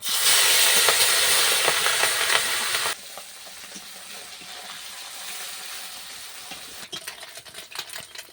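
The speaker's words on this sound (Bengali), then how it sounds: "পুরো তেলটা ভালো করে গরম হয়ে গেছে। এরপর আমি মাছটা ভেজে নেব।" Fish fries in well-heated oil with a loud, dense sizzle that drops suddenly to a softer, uneven crackle and spatters, then swells again toward the end.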